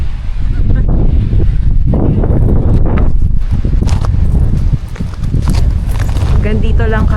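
Strong wind gusts buffet the microphone beside the Angat Dam river, a loud continuous rumble with rustling and faint voices underneath.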